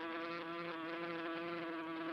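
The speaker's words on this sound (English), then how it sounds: "So the bee comes." A bee in a computer-rendered animation gives a steady, faint, continuous buzzing drone with no breaks, heard alone without any speech.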